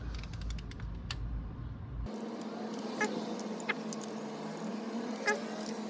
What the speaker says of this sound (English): I'm not sure if I like these Husky torque wrenches with the click.